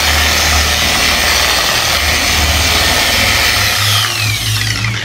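A Vonixx 4-in-1 car polisher runs continuously close by, a loud steady motor whir with a low hum that shifts slightly in pitch as the pad works.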